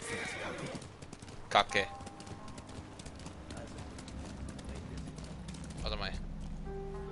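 A horse in the Ghost of Tsushima video game whinnies loudly in a brief rising burst, with steady hoof clip-clops running underneath and a second whinny near the end, while someone talks over the game sounds.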